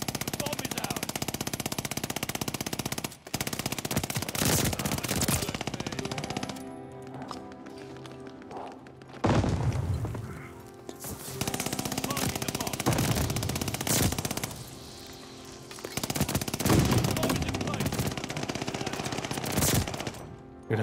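Sustained light machine gun fire in the Call of Duty: Vanguard video game, rapid automatic bursts with brief pauses, loud and close, running almost continuously throughout.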